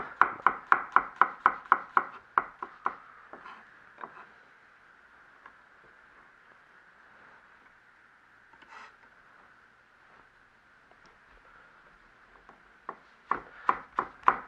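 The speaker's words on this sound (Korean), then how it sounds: "마늘고추는 이제 편으로 썰어 볼 건데요" A knife slices garlic and chili peppers on a cutting board while preparing a bacon bean sprout stir-fry. Rapid rhythmic chops come in close bursts at the start and end, with scattered softer cuts and low background hum between.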